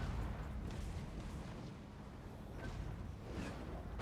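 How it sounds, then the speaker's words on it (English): Cannon fire rumbles through a Total War: Warhammer battle between goblin forces, with dense, continuous low booms and battle noise rolling steadily at moderate loudness with no talking. "Oh, the cannons are firing already."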